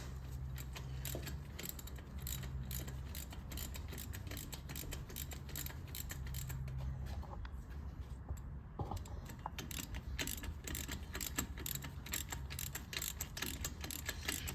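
Ratchet tightening a spark plug on a 2009 Police Special motorcycle during routine maintenance, rapid metallic clicking and pawl ratcheting repeated close by over a steady low hum.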